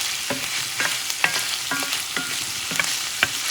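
Chorizo frying in a pan over heat just below medium, a steady close sizzle broken by a handful of sharp spatula scrapes and taps spaced irregularly, with no voices.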